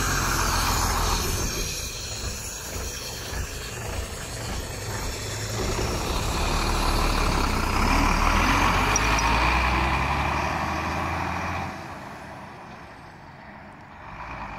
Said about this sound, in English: After the bus departed